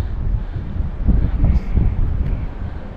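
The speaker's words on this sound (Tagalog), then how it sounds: "Abot dito yung hangin." Strong wind at sea rushes steadily past, a loud continuous buffeting roar with slight swells in force and no one talking.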